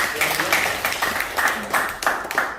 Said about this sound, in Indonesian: Tepuk tangan buat Bapak Ibu ya.